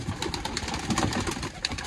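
Pigeons kept for kabootar bazi, a flock of racing or fancy birds, coo softly and repeatedly at close range, a dense overlapping murmur with scattered louder calls and no voices.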